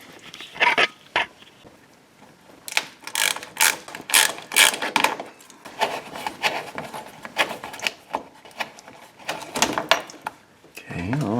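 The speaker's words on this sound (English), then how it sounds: "let me see here if I can get that bolt out of there" A ratchet works on a bumper bolt of a third-generation Camaro IROC-Z barn find, with bursts of clicking spread through the clip among handling clatter and scattered talk.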